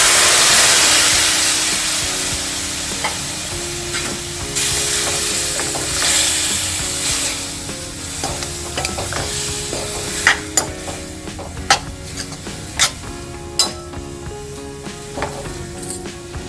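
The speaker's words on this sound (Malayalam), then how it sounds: "ഇതിനകത്തോട്ട് നമുക്ക് വിനാഗിരി കുതിർത്ത് വെച്ചിരിക്കുന്ന മാങ്ങ ഇട്ട് കൊടുക്കാം." Vinegar-soaked dried mango tipped into a hot pan with Kashmiri chilli powder for pickle, a loud sizzle at first that settles into steady frying with repeated sharp scraping and stirring strokes of a spoon against the pan.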